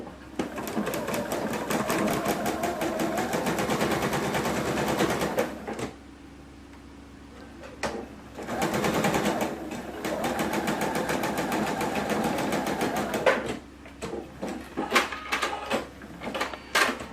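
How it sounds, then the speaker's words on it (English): A sewing machine stitches quilt blocks for a half log cabin quilt in loud rapid runs, stopping for pauses between bursts, with a brief quieter stretch and a few scattered clicks near the end. "And so let's stitch that."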